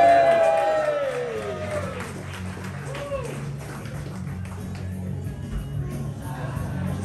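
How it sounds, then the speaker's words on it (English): An awards party crowd claps and cheers for a film winner. The applause is loud at first, then settles into a sustained, roomy wash of clapping with scattered shouts, and voices murmur through it. "Massive, massive round of applause. Go crazy."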